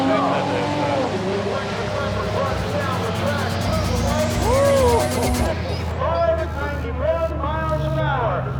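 Electric Tesla launching at an underground street drag race in Los Angeles, a rising whine over heavy crowd babble and other engines, with voices and commentary throughout.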